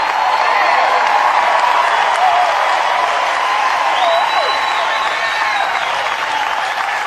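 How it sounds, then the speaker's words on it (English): A home crowd at a 2018 NCAA regional college baseball game between Clemson and St. John's keeps up sustained, loud applause and cheering with scattered whoops, heard over a steady, dense roar of the stands. "That'll get the home crowd hooting and hollering"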